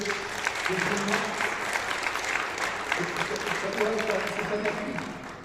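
An audience at a colloquium in Meknes, Morocco, applauds steadily throughout, a dense and sustained clapping with voices speaking over it.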